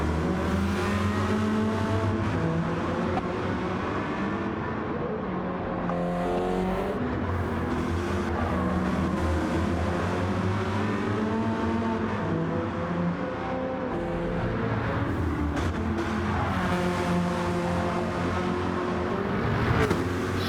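An older race car in Gran Turismo 7 drives a long track race, its engine droning and revving continuously and loud, with pitch sweeping up and down through gear changes and passes.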